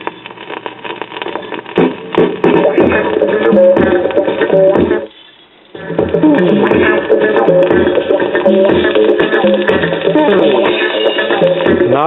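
A 1970 Newcomb EDT15C classroom record player, fitted with a borrowed cartridge, plays a record with dense, band-limited music continuing steadily, broken by a brief near-silent gap midway before resuming.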